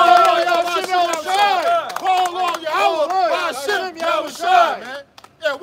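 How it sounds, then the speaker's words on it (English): A crowd at a live outdoor camp gathering shouts and cheers in overlapping, rising voices, with scattered clapping mixed in, loud and close, before breaking off into brief bursts. "let's give a round of applause to Yahweh Shimei Oshai"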